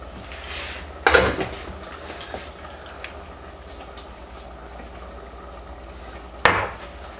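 Dishes, pots and pans clatter while cheeseburger soup is cooked in a home kitchen, with two sharp loud clanks several seconds apart and a few lighter knocks between them.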